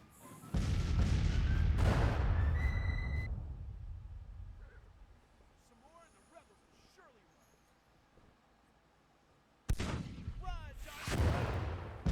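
Cannon fire rumbles in a Civil War battle in the strategy game Grand Tactician, with a heavy booming volley at the start and another sharp blast near the end, faint noise between, under a voice.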